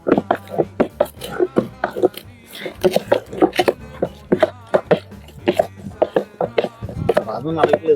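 Mutton haleem is mashed and mixed by hand in a pot, giving a rhythmic series of soft thumps and squelches under near-constant talking.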